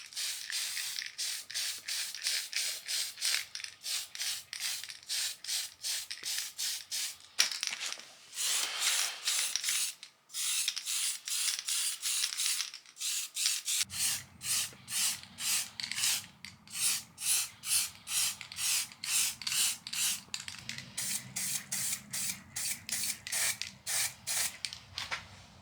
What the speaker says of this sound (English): let's go out into the garage and get spraying.